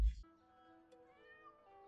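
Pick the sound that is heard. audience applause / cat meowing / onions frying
cat meowing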